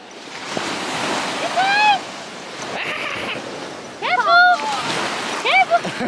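Sea waves washing onto an English beach, with breaking surf and wind noise on the microphone, under people talking and calling out.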